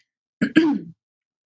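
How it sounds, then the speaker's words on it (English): A single close, deliberate throat clearing in two quick bursts, alone against silence. "I just have to clear my throat."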